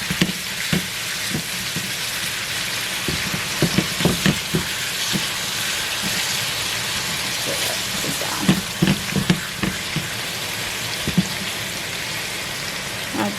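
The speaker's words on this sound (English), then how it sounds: "I'm just searing it." Ground beef sears in a pan with a loud, continuous sizzle that holds for several seconds, broken by occasional clinks and scrapes, with no talking.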